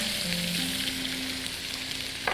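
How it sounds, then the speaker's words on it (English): Chicken sizzles steadily in a pan over vigorous heat as it is moved around to lift caramelized spots, a continuous loud fry hiss with faint scraping and a brief clatter near the end. "Just move the chicken around to sort of lift off or deglaze those caramelized spots"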